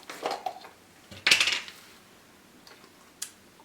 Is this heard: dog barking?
no